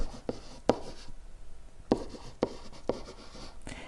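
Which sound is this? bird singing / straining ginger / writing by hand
writing by hand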